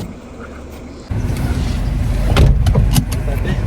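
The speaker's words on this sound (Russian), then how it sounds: "грузим вещи в машину" Luggage is loaded into a car in the Georgian mountains, with close thumps, rustling and knocks of bags against the vehicle over a steady background rumble.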